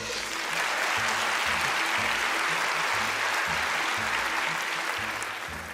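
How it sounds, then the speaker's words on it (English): A studio audience at a Rubik's cube-solving quiz show breaks into steady, sustained applause, dense and even throughout with no voices over it. "Round of applause."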